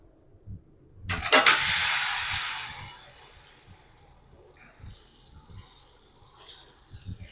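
Kavuni rice adai stuffed with sesame filling hits a hot griddle with a sudden loud sizzle that fades over about two seconds into a soft, steady crackle, close and without talking.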